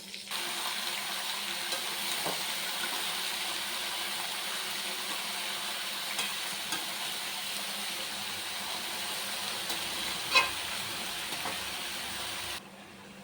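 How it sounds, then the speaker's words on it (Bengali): Mixed vegetables sizzle steadily in hot oil with panch phoron, green chilli and spices, a continuous hissing fry that holds at an even level for about twelve seconds, with one brief clatter partway through, and no voices. "এরপর তেলের মধ্যে সমস্ত সবজিগুলোকে দিয়ে দেব।"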